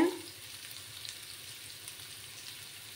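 Onions frying in a pan over a lowered gas flame, a steady soft sizzle and crackle running the whole time at moderate level, with no voices.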